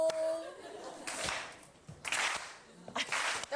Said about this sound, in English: Just stop clapping, y'all.